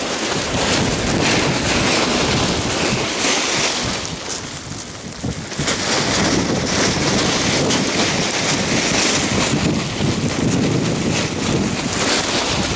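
Strong wind blows across a pond during crucian carp fishing at Balta Flamina. It is a loud, steady roar buffeting the microphone, easing briefly for a moment mid-way, then surging back.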